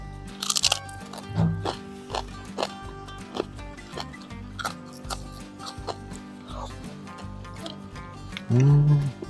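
Fried crucian carp being crunched close up, a run of sharp crisp bites and chews spread over several seconds, with small mouth noises and a brief low hum near the end.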